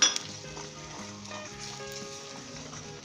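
Ginger garlic paste with spices including kasuri methi and garam masala sizzles and fries in a karahi pan while being stirred, a steady close sizzle with a sharp clink of a utensil at the start and soft scraping throughout.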